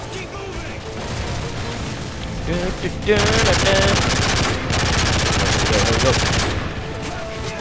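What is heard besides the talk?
gunfire and grenade explosions in Modern Warfare 3 video game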